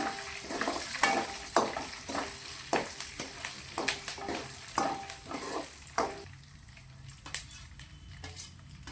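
Curry leaves frying in a pan sizzle softly under a steady run of scraping stirring strokes, each stroke a quick clack against the metal.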